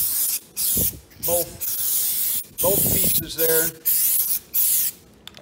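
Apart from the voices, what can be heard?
spraying onto door panel pieces, 56 Chevy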